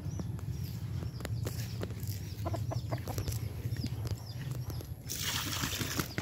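Young roosters clucking in an open-air chicken yard, soft scattered clucks and chirps over a constant low hum, fairly faint and close.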